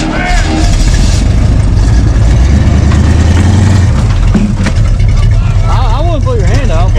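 An off-road rig at a rock-bouncing event idles and runs steadily with its transfer case engaged, a loud continuous low engine rumble throughout, with people talking and calling out over it.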